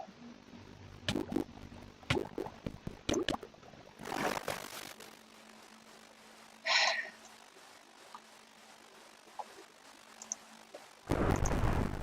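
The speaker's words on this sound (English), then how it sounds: "And then it starts raining immediately while I'm trying to do something." Rain and thunder in a video game: a steady patter of rain with sharp crackling bursts and a heavy rumbling roll of thunder midway, and another loud burst at the end.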